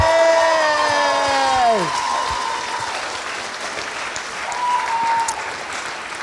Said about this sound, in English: let's give all the Poms a big round of applause and an Aussie welcome